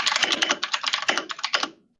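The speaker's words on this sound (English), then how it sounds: "Someone is typing very loud." Loud, fast typing on a computer keyboard, a close, crisp run of clattering keystrokes in quick irregular bursts, alone, ending abruptly.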